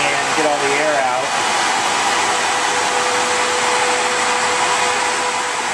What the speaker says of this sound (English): Now the system's running, you can hear the dual fans operating.